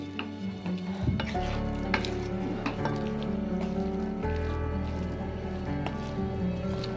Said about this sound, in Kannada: ಆ ಎಣ್ಣೆ ಎಲ್ಲ ಬಿಟ್ಕೋತ ಬರೋವರೆಗೂ ನಾವು ಇದನ್ನು ತಿರುಗಿಸ್ತಾ ಇರ್ಬೇಕು